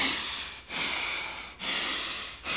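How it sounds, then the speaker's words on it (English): Forceful, rhythmic breaths from a surfer's power-breathing exercise: three long, strong rushes of air with brief pauses between them, close to the microphone and with no talking. "so I exhale on the left side"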